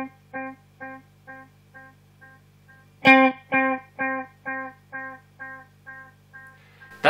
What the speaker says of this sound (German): was man jetzt gleich hören wird, ist, dass das Delay nicht mehr so präsent ist